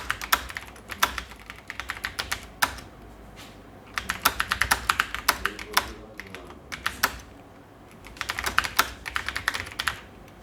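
Keys clatter in bursts of rapid typing on a computer keyboard, close and clear, with short pauses between runs of keystrokes and no talking.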